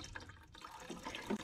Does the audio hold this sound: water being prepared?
yes